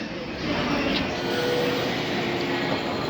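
A Keihin Tohoku Line train pulls into a station toward Shinagawa, giving a steady broad rushing and rumbling roar with faint squeals that holds for a few seconds.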